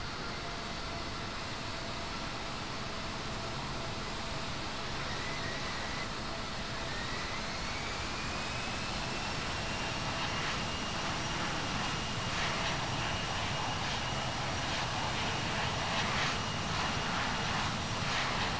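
An airliner's jet engines whine and roar steadily while taxiing in the flight simulator game Infinite Flight, with a sustained loud drone and a faint rising tone, no voices over it.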